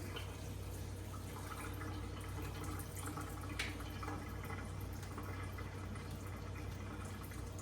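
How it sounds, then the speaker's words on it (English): Cold tap water runs through a strainer of herbs for a tabbouleh salad, making a faint, steady splashing rush that continues evenly throughout. "I'll just run some cold water through it and strain it."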